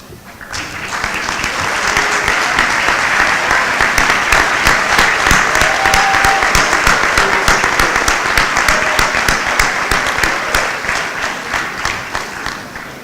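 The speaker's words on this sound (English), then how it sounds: "let's give a big round of applause" Sustained applause from a university convocation audience welcoming new students, faculty and staff, loud and dense with many hands clapping, swelling after a moment and tapering slightly near the end.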